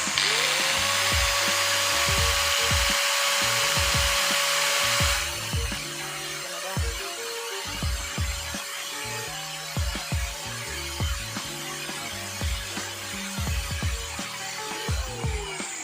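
Stanley SG5100 angle grinder running at no load, a steady high-pitched motor whine that holds constant throughout, close by, with intermittent clicks and knocks beneath it.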